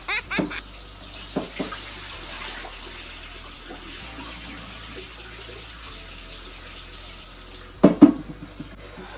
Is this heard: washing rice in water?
yes